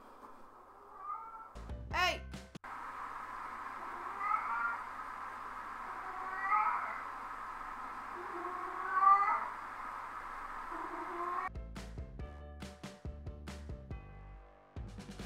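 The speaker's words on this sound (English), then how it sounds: "can you stop meowing?" A cat meows repeatedly, drawn-out and whiny, three or four calls spread across a quiet room, with a brief shouted word near the end.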